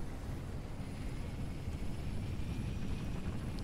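A helicopter flies in the video game Halo: Reach, its engine a steady close droning roar with low rumble and faint high whine, continuous and unbroken throughout.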